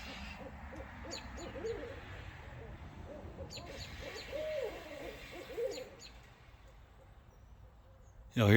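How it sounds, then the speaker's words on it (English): An owl hoots outdoors, with repeated hoots of one bird carrying over steady background noise and more calls sounding farther off, while someone talks quietly now and then. "I hear this old hoot owl go to hollering"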